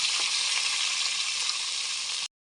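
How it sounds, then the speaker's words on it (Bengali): Koi fish sizzle hard in hot pure mustard oil in a kadai, a loud, steady, dense crackle that holds for about two seconds and then cuts off abruptly. "গরম হয়ে গেছে, ছেড়ে দিলাম কই মাছগুলো।"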